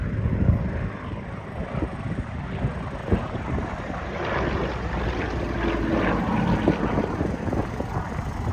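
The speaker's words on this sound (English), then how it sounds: "it's quite a graceful aeroplane, as you can see as it goes through the aerobatic moments for you." A Yak trainer aeroplane flies aerobatics at an airshow, its propeller engine a steady, rough drone that swells slightly as it passes, with wind buffeting the microphone throughout.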